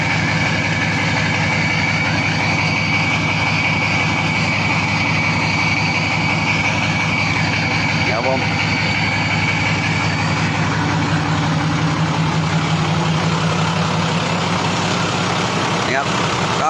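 A turbocharged EM 100 engine fitted with a large turbo kit idles close by. It gives a loud, steady, low rumbling drone that runs unbroken throughout.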